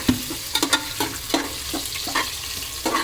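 Onions fry in a pan for egg biryani while a utensil stirs and scrapes them in repeated sharp knocks roughly every half second over a low sizzle, close and fairly loud.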